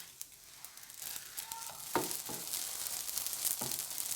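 Cheese and spinach pastries sizzling in oil, a soft hiss that grows louder and fuller, broken by a few light knocks and clinks from handling.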